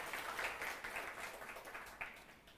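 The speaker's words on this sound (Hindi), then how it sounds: "एक बार तालियां हो जाए गुरुकुल के लिए।" A crowd claps together on a school campus welcoming event, steady dense applause with small swells, no voices over it.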